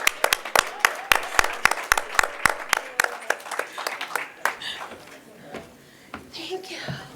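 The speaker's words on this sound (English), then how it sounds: "Can you please give him a round of applause?" An audience at an ICT summit applauds, with sharp individual claps ringing out at first, then thinning into scattered clapping that fades under voices and murmuring.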